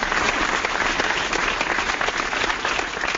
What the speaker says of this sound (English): We got the official applause there.